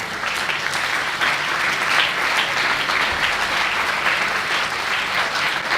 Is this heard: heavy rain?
no